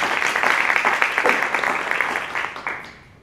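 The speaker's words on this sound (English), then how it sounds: "Let's give her a round of applause." An audience at a speaker series talk claps in a dense burst of applause that swells and then fades away toward the end.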